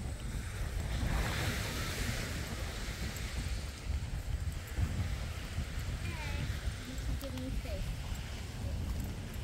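Waves wash steadily onto Grimsby beach on the lake shore, a continuous broadband surf rush with wind buffeting the microphone throughout and a few faint bird calls near the end.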